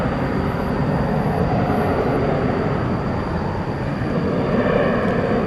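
A Boeing 737-800 takes off at night from DFW Airport, its engine roar a steady, loud, broadband rumble that holds level throughout with no voices.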